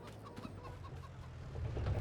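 Chickens cluck softly in the Farming Simulator 22 video game, a few quiet, scattered clucks over low ambient farm noise.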